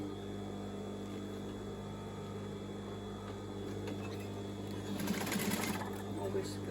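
A sewing machine stitches elastic onto both sides of a bikini bust, a steady close mechanical whir with a brief faster burst near the end.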